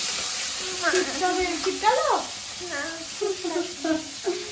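Chicken sizzles and fries in a kadai with a steady hiss, while faint voice-like tones rise and fall over the frying.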